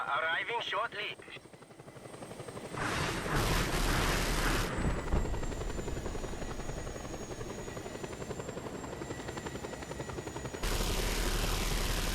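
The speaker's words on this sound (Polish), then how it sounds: "O kurde, helikopter" A helicopter's rotor chop drones steadily nearby in Just Cause 2, with a loud burst of noise and rumble from the game's action; no clear talking.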